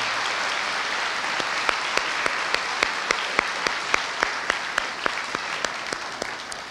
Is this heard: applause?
yes